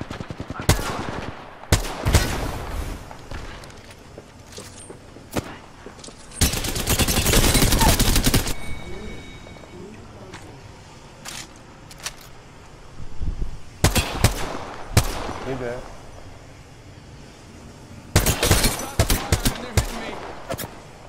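Gunfire in the video game Apex Legends: repeated bursts of rapid automatic fire, including a long sustained volley, separated by quieter gaps with faint game sounds.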